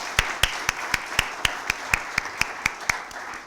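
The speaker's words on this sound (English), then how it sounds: "have a big round of applause for Dr. Kapadia and Mr. Shivhare." Applause for the speakers after a medical talk on heart disease prevention comes across as a faint, steady series of single claps, about four per second, evenly spaced.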